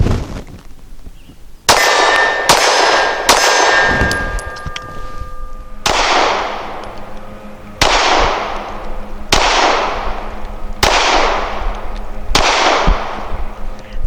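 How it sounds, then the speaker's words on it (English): Steyr S9-A1 pistol fires five rounds at a range, each a loud, sharp crack with a ringing metallic decay, spaced about two seconds apart, preceded by several clanks and clicks. "after firing 5 rounds through the Steyr"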